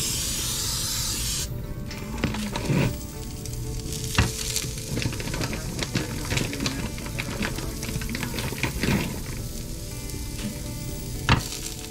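Wheat pancakes sizzle and fry steadily in a pan, giving a constant close hiss broken by occasional scraping and tapping of a utensil.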